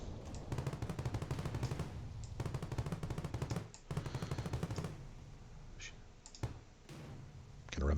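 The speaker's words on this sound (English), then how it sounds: "Little ship, small machine gun." A small starter ship's machine gun fires in the Star Vortex space shooter game, rapid clicky bursts in three long volleys, then a few sparse shots and faint game sounds.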